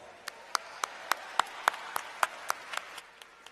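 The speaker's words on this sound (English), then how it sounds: "Give them applause." Rhythmic clapping at a university commencement ceremony, crisp evenly spaced claps about every quarter second over a soft crowd background, slowing and fading toward the end.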